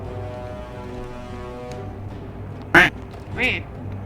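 Ducks quack in The Forgotten City game, two short quacks standing out over a steady background drone while a voice talks around them.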